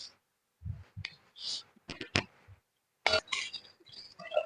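Melted butter and sugar being mixed in a bowl, heard as scattered sharp clicks and clinks of a utensil against the bowl, with quiet gaps between strokes.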